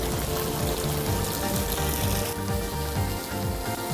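Mutton with grated coconut is sautéed in a pan, giving a steady close hiss and crackle of frying with faint scraping underneath and no talk.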